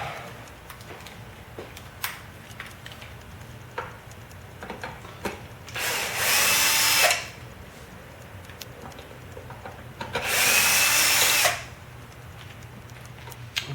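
A power drill fitted with a Phillips head bit drives out screws in two whirring bursts of about a second each. Small clicks and taps from handling the parts come before and between the bursts.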